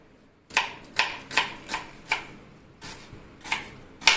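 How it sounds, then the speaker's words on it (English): A knife chopping onions on a board for Goan sausage chilly fry: eight or so crisp, evenly spaced cuts about half a second apart, close and clear with no talking. "So chop this way the onions."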